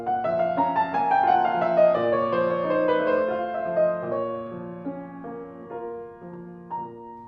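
Piano playing an unmeasured Chopin/Liszt cadenza at full tempo, a rapid descending cascade of notes over sustained low bass tones, ending with a few softer, separated notes, close and alone.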